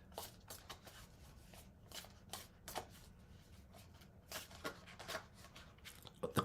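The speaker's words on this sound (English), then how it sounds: "Circular decks are quite difficult for overhand shuffling as well." A circular deck of cards is overhand shuffled close up, quiet repeated riffling slaps and brushes coming in irregular bursts with brief pauses between.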